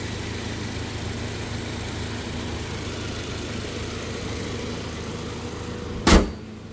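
A black 2019 Toyota Land Cruiser Prado TX with a 2700cc engine idles in a smooth, steady low hum, close by, ending with a sharp thud near the end like a door shutting.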